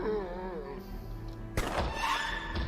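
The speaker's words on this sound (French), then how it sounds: "T'as entendu le coup de feu?" In a video game, a sudden sharp pistol-like gunshot bang cuts in partway through, followed by a brief clattering rumble, after a stretch of tonal background sound.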